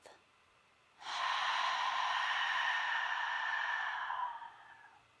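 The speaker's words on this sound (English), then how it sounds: "breathe out through your mouth" A single long exhale through the mouth during a yoga session, a soft, steady breathy rush that lasts about three seconds and then trails off, with quiet stillness before and after.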